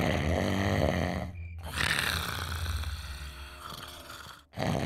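Snoring from a sleeping man in an animated Western set at a frontier boarding house, a loud, rough, drawn-out rasp with a brief gap in the middle before the snore resumes.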